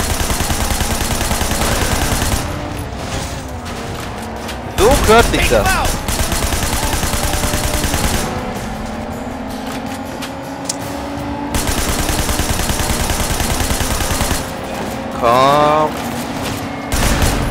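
Automatic gunfire in a Sleeping Dogs shootout, bursts of rapid shots rattling through the scene with loud ricochet-like whines, under someone talking excitedly in German.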